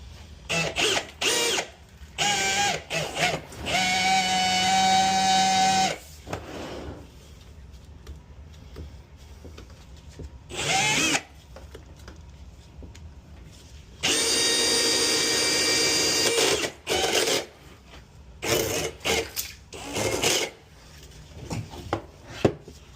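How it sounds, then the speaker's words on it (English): Plumber's flex shaft drain cleaner breaking up a clog in a laundry drain, running in two sustained loud mechanical whirring bursts separated by intermittent clanks and handling noise, with no talk. "So I'm gonna run my flex shaft, get this clog broken up."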